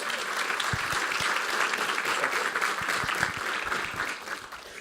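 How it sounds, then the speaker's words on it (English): Audience applause, a dense wash of many hands clapping that holds steady for several seconds, then begins to thin toward the end. "please give a warm round of applause for Tom."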